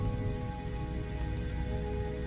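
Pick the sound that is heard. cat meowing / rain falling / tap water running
rain falling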